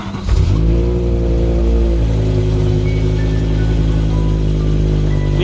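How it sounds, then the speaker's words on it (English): A BMW engine catches and settles into a loud, steady idle with rich low rumble, close by, with a slight rise in revs near the start and continuous running throughout. "the BMW is back and running"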